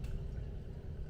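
Water streams steadily into a Hario V60 pour-over coffee dripper during a 225-gram pour over the coffee bed, a continuous soft pour with no talk.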